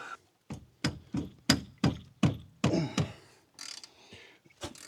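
Hand hammering on rusted brake parts of a 2017 Mazda 3: about ten sharp metallic blows in a steady rhythm, close and loud, slowing and softening toward the end, with no talk.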